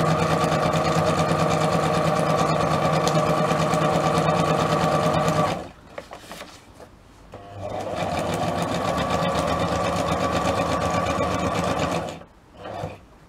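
An electric sewing machine runs a zigzag stitch at speed, giving a loud, fast mechanical hum and rattle. It stops abruptly, stays quiet for about two seconds, then resumes in a second long burst before cutting off again.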